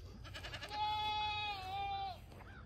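A single goat on a homestead lets out a long, loud, wavering bleat close by, rising and sliding in pitch for over a second before breaking off, with quiet outdoor background around it.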